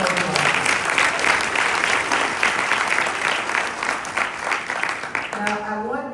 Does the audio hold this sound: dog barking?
no